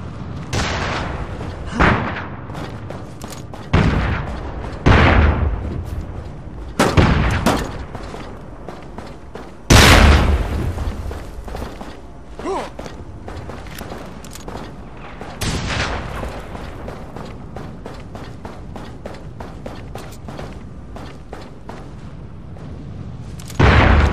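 Explosions and bursts of gunfire from the SOCOM video game on the Frostfire map, with several loud booms and rapid volleys spread irregularly through the scene, close and heavy, with faint voices underneath.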